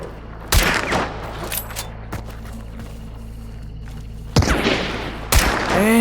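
Gunfire in the video game Hunt: Showdown: several sharp, booming shots ring out at irregular intervals, one near the start, a smaller one mid-way and a pair close together near the end, with a low ambient rumble between them.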